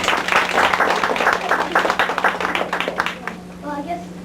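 Classroom audience applauding a vote for the third George Washington in a student truth-guessing game, a dense, steady clatter of many clapping hands for about three seconds before it thins out and a voice begins.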